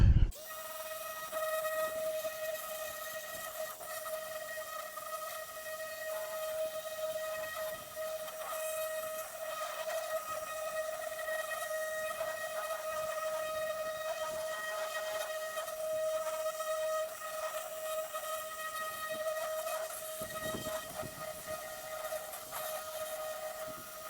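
A vibrating sander drones steadily as it cleans up a metal panel on a 1952 VW barn door ambulance, with a constant high whine and buzz close up from start to finish.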